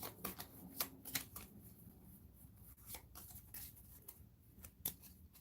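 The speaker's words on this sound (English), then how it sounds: "shuffle them all together." A deck of playing cards for the Warp's Edge: Viren Invasion board game is shuffled close by, with quick riffles and soft rubbing, pitched low and steady.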